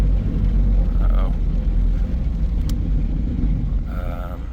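A Smart car engine strains under load as traction control problems hold it back, a close, loud low rumble that slowly fades as the car loses speed and coasts toward a stop.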